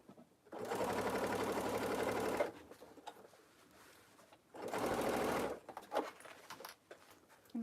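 A sewing machine basting a zipper onto a tote bag runs in two bursts of steady, fast stitching, each about two seconds long, separated by quieter handling of fabric.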